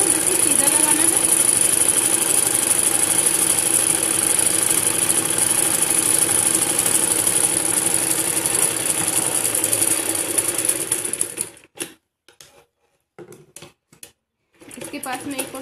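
A sewing machine runs a long continuous stitch along a folded salwar seam, a loud close steady hum that cuts out near the end and then gives a few short stop-start bursts.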